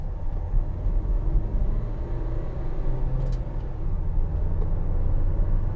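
Engine drone from a 2016 Vauxhall Vivaro 1.6 CDTi BiTurbo diesel van on the move, a steady low rumble with a brief shift as a gear changes partway through, no voices.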